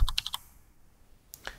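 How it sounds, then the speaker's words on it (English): Someone types on a computer keyboard: a quick run of four or five close, crisp keystrokes, a short pause, then two more taps near the end, all clear and nearby with no talking. "get out my keyboard, and type in the new name"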